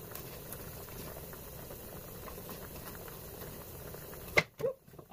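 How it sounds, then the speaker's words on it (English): Onions sautéing in a pan give a steady, even sizzle that runs close and moderately loud, then breaks off near the end into a couple of brief knocks. "sauteing the onions"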